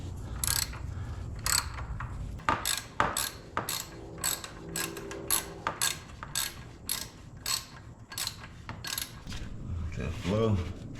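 A ratchet clicks in quick bursts as drain bolts go back into a 2004 Yamaha YFZ 450 quad, with sharp metallic strokes and pauses between them. The sound is close, with mechanical rattles near the end.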